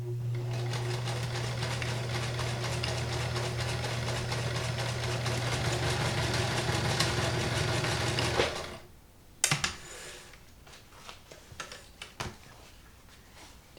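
Vintage Kenmore 158.19311 sewing machine running a largest-width zigzag stitch, a steady close motor hum with rapid needle clatter for about eight seconds, then stopping into scattered light clicks and handling knocks.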